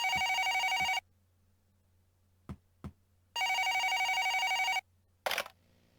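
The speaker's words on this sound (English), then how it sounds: "wait for the phone to ring" Telephone in the Twilight Syndrome video game ringing in two long, loud electronic bursts separated by silence, with faint clicks between rings and a low background hum.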